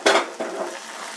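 Ingredients for kara kuzhambu sizzling and frying in a pan while being stirred, with a loud scrape near the start and a second stir a moment later, then a steady soft sizzle.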